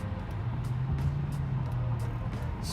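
Lexus LS430 sedan with over 300,000 miles cruising smoothly down a road, a quiet steady low cabin hum and road drone with faint occasional ticks, no speech.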